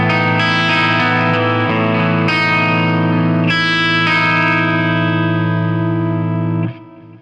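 Distorted electric guitar from a Music Man Y2D Dark Lord with a Seymour Duncan P-Rails humbucker in parallel mode rings out loud, sustained chords struck several times before the final chord is cut off near the end.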